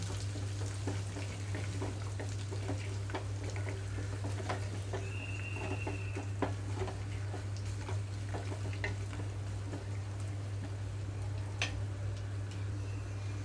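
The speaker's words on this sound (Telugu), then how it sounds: "ఈ ఉల్లిపాయలు అన్నీ వేగిన తర్వాత ఇందులోకి కారం కూడా వేసేసుకుంటున్నాను" Chopped onions fry in a pan with chili powder just added, a steady close sizzle with occasional light scrapes and pops, continuous and even throughout.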